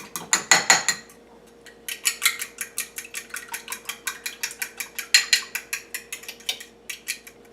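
A utensil rapidly beating eggs in a bowl for struffoli dough makes a brisk run of clicking, tapping strokes, a fast burst, a short pause, then a long, even, rhythmic series, close and clear.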